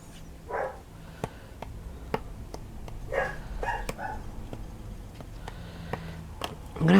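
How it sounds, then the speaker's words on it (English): Dogs bark in scattered short bursts, a few sharp yaps and woofs spread across a steady background hum, moderately loud and not very close, with no one speaking over them. "I'm going to have to go sort them dogs out."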